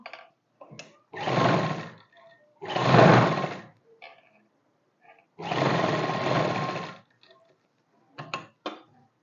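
An electric sewing machine stitches a suit neckline in three loud, sustained runs of whirring motor. Short quiet gaps and small clicks of fabric handling fall between them.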